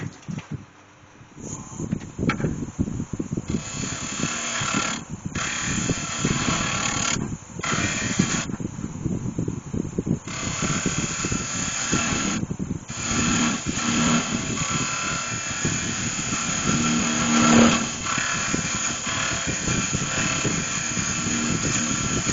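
A wood lathe spins a cherry blank while a carbide tip cutter works it, giving a continuous loud rumbling, scraping roar with brief drops where the cutter lifts off the wood.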